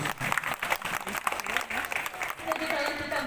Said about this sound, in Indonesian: Boleh tepuk tangannya deh buat Bapak Ibu.